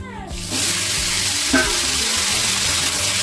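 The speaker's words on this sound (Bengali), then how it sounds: "মা কড়াইতে আগেতে জিরা এবং সসটা ভেজে নিল" Cumin and sauce fry in oil in a wok at a village home, a dense continuous sizzle that rises sharply after a quiet start and stays loud, with a brief clatter midway.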